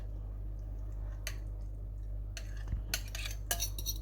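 A utensil stirs a chicken mixture in a baking dish, giving a few soft, scattered clinks and scrapes against the dish over a low steady hum, quiet at first and then a little busier toward the end.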